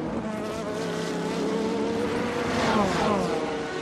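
Audi Le Mans prototype race cars running onto the Mulsanne straight in 2004, a high, whining engine drone that swells slightly as a car passes, with a buzzy tone throughout and a continuous hum beneath.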